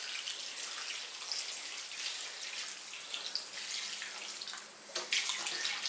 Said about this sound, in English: We'll just add a little bit more water there.